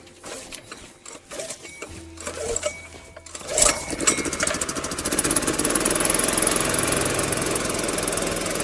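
Portable generator engine in the cold Siberian taiga, rattling into life after a few uneven sputters, then settling into a loud, steady rapid chugging run close by.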